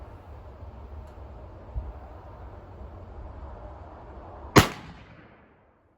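An 1861 Springfield rifle musket fires once outdoors, a single sharp loud crack near the end that rings out and decays, after a few seconds of quiet ambient rumble with a faint knock earlier.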